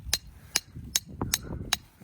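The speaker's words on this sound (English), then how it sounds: "hit it with his hammer" A hammer strikes a wooden stake being driven into the ground on a farm, five or six sharp evenly spaced knocks about every 0.4 seconds, close and moderately loud outdoors.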